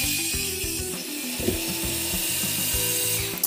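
Parkside Rapidfire 2.2 cordless screwdriver backing out a screw, its small motor whirring with a steady ratcheting buzz that stutters in short bursts, close and fairly loud, with no talking.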